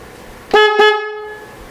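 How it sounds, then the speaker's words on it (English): Horn on an Rcmodelex Hilux Double Cab RC model truck, two short loud electronic honks in quick succession, close and piercing, with a faint ringing tail after. "this is me talking, and this is the horn coming over my voice"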